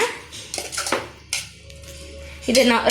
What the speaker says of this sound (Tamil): தேங்காயை ஆட் பண்ணி நல்லா ஒரு கலக்கி விட்டுக்கோங்க